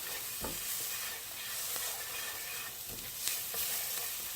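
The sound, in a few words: onions frying with cinnamon, cumin and paprika being stirred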